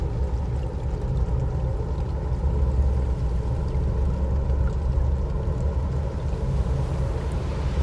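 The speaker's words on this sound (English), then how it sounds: "Do you like the sound of these engines?" A steady, low engine drone from fishing boat engines in a video game hums continuously with a broad rumbling wash, like a boat motor running at constant speed, no voices.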